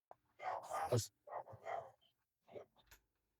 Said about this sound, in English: You'll hear my dog is barking